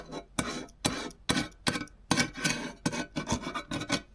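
Paint being scraped off a surface with a hand tool, about ten short rasping strokes in a steady back-and-forth rhythm, close and fairly quiet, with no talking.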